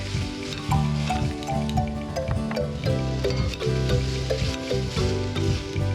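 Mince with taco seasoning, canned beans and smoky paprika sizzles and bubbles in a pan, a close steady frying hiss with soft wet pops and light stirring scrapes, no talking.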